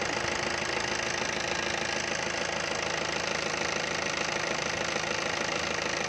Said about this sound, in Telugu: ఇంజిన్ నాయిస్ చాలా స్మూత్ అని చూసారు